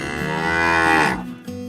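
A single long, loud cow moo from a cattle farm, close to the microphone, rising then fading out, followed by a quiet bit of farm background.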